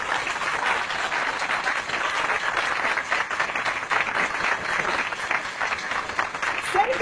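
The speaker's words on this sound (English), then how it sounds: "save the applause till the end" An audience breaks into sustained applause, a dense wash of clapping at even loudness throughout without pause.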